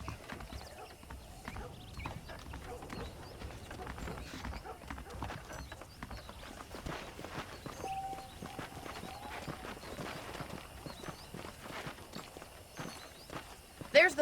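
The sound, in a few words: horses walking, hooves clip-clopping, from video game Red Dead Redemption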